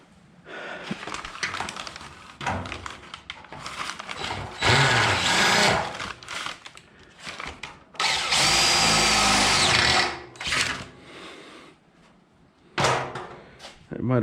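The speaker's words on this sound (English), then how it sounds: "See if I can get into it with the drill." A power drill whines in several bursts, grinding loudly into metal while drilling out a spot weld on a car's rocker panel, with short pauses between runs, close by.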